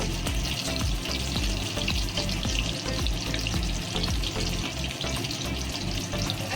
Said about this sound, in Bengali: এই দেখুন আমি এবার ডিমগুলোকে সুন্দর করে ভেজে নেবো